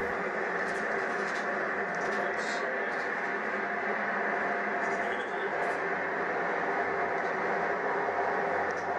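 A train runs along the line near St Anne's Tunnel in Bristol, giving a steady, even rumble of wheels on rail that holds throughout at moderate volume, with no talk heard.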